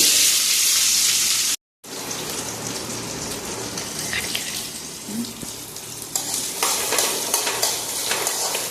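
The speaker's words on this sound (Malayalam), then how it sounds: "ഇതിലേക്കിനി നമ്മൾ അരിഞ്ഞു വെച്ചിട്ടുള്ള ചെറിയുള്ളിയും കൂടെ ചേർത്ത് കൊടുക്കാം" Chopped shallots fry in coconut oil with dried red chillies on a medium flame, a loud continuous close sizzle with scraping stir strokes, briefly cut off near the start before resuming; no one speaks.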